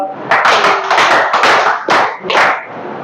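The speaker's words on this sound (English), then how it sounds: "Can you do a power clap?" A classroom of students claps in a rhythmic power-clap pattern, several loud, near bursts of hand claps with brief pauses between them.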